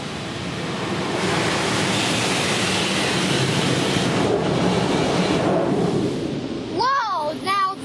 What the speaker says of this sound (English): Whoa, now that was the blast of water.